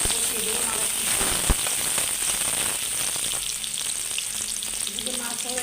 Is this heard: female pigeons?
no